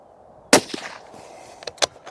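A single sharp, loud shot from a Sako 100 Explorer rifle firing a 162-grain polymer-tipped lead-free bullet at a 100-yard target, followed by a brief decaying echo and a few faint clicks.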